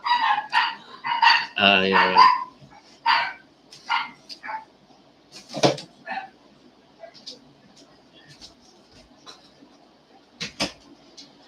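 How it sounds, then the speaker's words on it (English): Dogs bark in several short bursts at a home, loud and close at first, then sparser barks and yips trail off, with a brief word spoken between them. "My dogs were barking."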